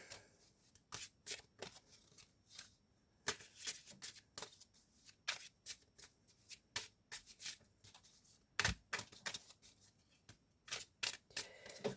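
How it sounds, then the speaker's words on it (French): A deck of playing cards being shuffled by hand for a game of bête, the card-riffling bursts coming near and crisp in repeated quick flurries with short pauses between, no voices. "je vais vous le mélanger"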